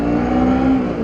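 A Kawasaki Ninja 250R motorcycle from 2011 revs in a short, loud burst, its engine tone holding steady and close with no voices over it.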